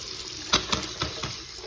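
A shower at an RV home base property runs steadily as iron bacteria are purged from the water lines with hydrogen peroxide, a constant rushing hiss with a few brief splashes.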